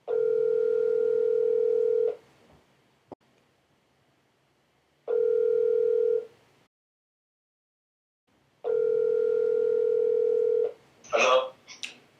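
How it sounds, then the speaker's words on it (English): Three bursts of a steady telephone dial tone, each about two to three seconds long, separated by silence while a call is placed, with a brief clatter of handset noise near the end. "let me go ahead and dial him up"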